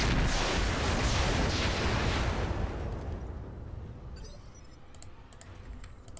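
Gunfire in the video game Roguepoint, a heavy booming burst of shots with rumbling blasts that fade into a quieter tail, followed by light clicking and tapping sounds, no talking.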